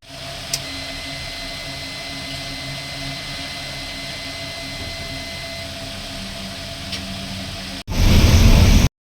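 A car drives along a highway near the Gujarat border, with a steady droning cabin rumble and faint engine hum that gives way at the end to a sudden loud roaring burst of wind-like noise.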